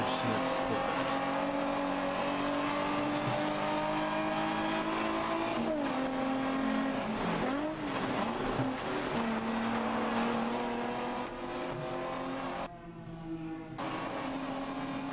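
George Smith's Corvette race car roars loudly and continuously on the track, its engine note rising and falling through gear changes, with a commentator talking over it.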